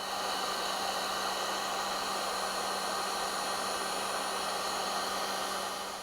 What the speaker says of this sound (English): all I need to do now is just hit it with the heat gun, and that should shrink up and seal.